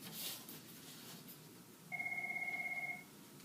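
A telephone rings with an incoming call, giving one steady warbling electronic trill of about a second over a low room hum.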